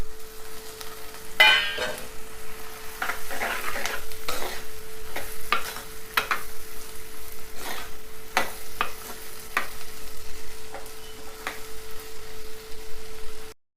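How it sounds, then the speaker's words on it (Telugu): Curry leaves and tomato frying and being stirred in a pan for an egg and vadiyalu pulusu, a steady close sizzle with sharp clatters and scrapes of a spoon against the pan throughout, no voices. "ఇప్పుడు ఇందులోనే కొంచెం కరివేపాకు, టమాటా కూడా వేసుకుందాం. అన్నీ వేగుతాయి మంచిగా."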